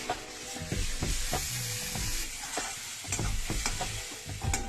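Onions browning in hot oil in a pan for a chicken dish, a steady close sizzle broken by frequent spatula stirs and scrapes.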